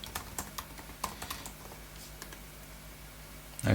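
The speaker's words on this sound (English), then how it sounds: "And then we can type in a new one" Quiet keystrokes tap out a new password on a computer keyboard, a quick irregular string of light clicks that thins out partway through, followed by a louder thump at the end.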